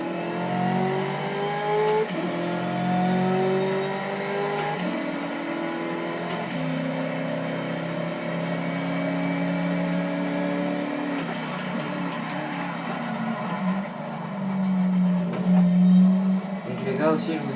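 A McLaren 12C sports car on the Bugatti circuit at Le Mans, its engine droning and shifting pitch through gear changes with a rising rev near the end, while someone talks over it.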